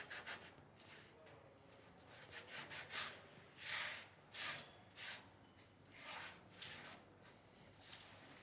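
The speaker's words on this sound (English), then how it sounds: "just by using my fingers, if I rub the surface, all the gaps get filled in with the copper" Fingertips rub copper powder into a gilding surface, giving soft, repeated scratchy strokes in an uneven rhythm, close and fairly quiet with no voices.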